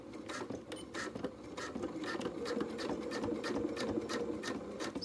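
A sewing machine stitches suit trousers along a seam with the presser foot down, a quiet, continuous close-up whir with fast needle ticks and a few faint rustles of fabric.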